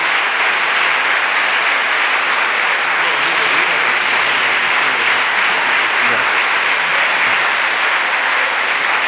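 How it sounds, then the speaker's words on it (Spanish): Loud, dense applause from a concert audience honouring a group of Colombian citizens at a youth symphonic band concert in Pasto, a steady roar of many hands clapping that holds evenly for about nine seconds. "un aplauso fortísimo a este grupo de ciudadanos colombianos"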